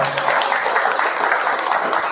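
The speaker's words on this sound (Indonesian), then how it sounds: "tepuk tangan untuk kita semuanya" Audience applause at a public talk, a continuous wash of many hands clapping at steady strength throughout, with no voices standing out.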